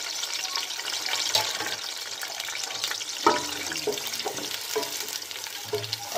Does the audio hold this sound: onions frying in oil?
yes